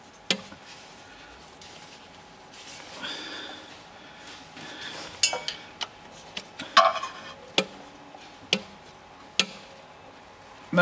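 Sharp, irregular knocks and clacks tap out from a VW Golf engine with worn big end bearings, faint and close, scattered over a low mechanical background.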